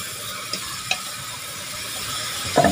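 Red chili powder roasting in hot oil for a jackfruit curry, a steady soft sizzle with a couple of light spoon taps and a brief scrape near the end.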